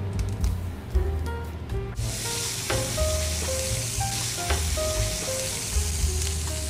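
Butter and oil sizzle steadily in a frying pan, a close, continuous hiss that jumps louder partway through and holds, with faint clinks and stirring beneath.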